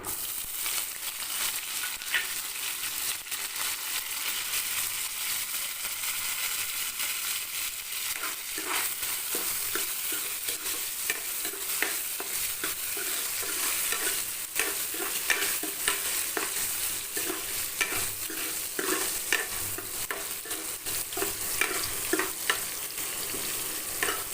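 Onion, green chillies and curry leaves sauté in a hot pan, a steady close sizzle running throughout with frequent scraping stir strokes and clinks; no talk.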